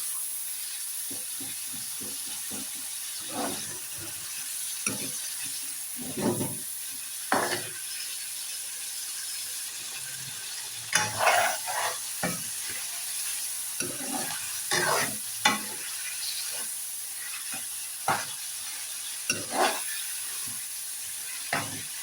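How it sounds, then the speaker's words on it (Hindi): Chicken liver masala fries in a pan with a steady sizzling hiss, broken by scattered scraping thumps as it is stirred; no one speaks. "बस ये और थोड़ा सा फ्राई होने देते हैं"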